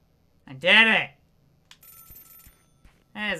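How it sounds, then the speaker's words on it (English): Payphone ringing in the video game Celeste, a short trilled electronic ring heard twice, with a brief clatter between the two bursts. "Hey, there's a phone ringing."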